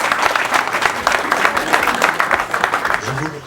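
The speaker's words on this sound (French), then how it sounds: "que vous applaudissiez très fort" A crowd at a funeral service claps loudly for a widow. The applause is dense and sustained, with a voice rising briefly over it near the end.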